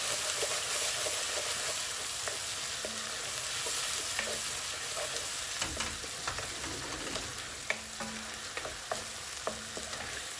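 Ginger, garlic, coriander and green chilies frying over high heat in mustard oil for Bangladeshi beef bhuna, a steady loud sizzle with scattered ticks and crackles of a stirring spoon throughout.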